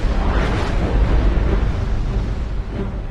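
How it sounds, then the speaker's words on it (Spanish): A catastrophic volcanic eruption gives a deep, continuous roaring rumble, loud and sustained, with no voices over it. "Esta erupción catastrófica cambió el clima"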